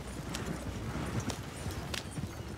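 Horses trot in Red Dead Redemption 2, a steady clip-clop of hooves running throughout at moderate volume, with faint background game ambience.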